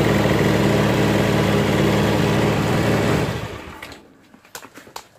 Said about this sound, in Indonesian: Ya, dia berjalan, mesinnya dia normal ya.